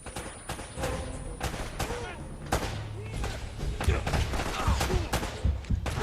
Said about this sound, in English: Grenade launchers.